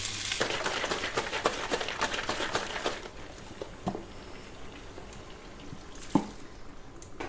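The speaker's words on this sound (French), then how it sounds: "Donc là il me faut ajouter le lait." 500 ml of milk poured into a cooking pot: a steady, soft liquid pour for about three seconds, then quieter dripping and a couple of light clinks, with no talking.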